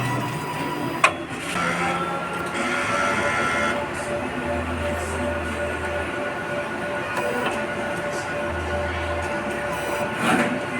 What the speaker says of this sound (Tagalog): Ito po yung sublimation machine po namin dito sa Bohol.